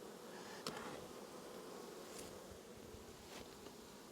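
Honey bees buzz steadily around a hive that is being moved without a smoker, a dense, continuous hum near and fairly faint, with a few louder passes close by.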